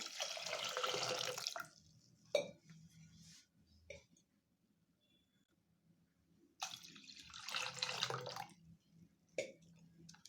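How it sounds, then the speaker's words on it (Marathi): Cold tap water pours over freshly boiled soybeans in a kitchen vessel, a splashing rush for about two seconds, then quiet clinks and handling, and another long pour near the end. "याच्यामध्ये गार पाणी ओतायचं"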